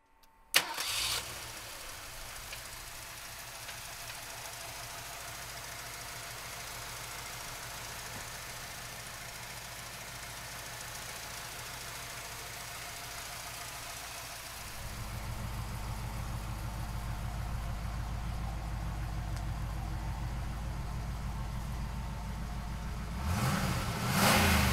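The 5-liter V8 of a 1983 Ford Mustang GT cranks and catches, then settles into a steady idle. Midway it rises to a louder, deeper sustained rev, with a final throttle blip at the end.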